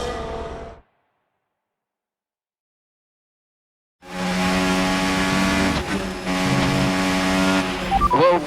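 F1 race car engines at Silverstone in the F1 25 video game: a short loud burst, several seconds of silence, then sustained high-revving engine roar with gear shifts and tire squeal near the end.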